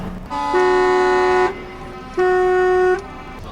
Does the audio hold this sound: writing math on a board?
no